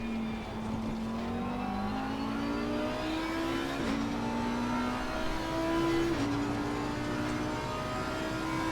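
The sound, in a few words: race car passing in video game Assetto Corsa Competizione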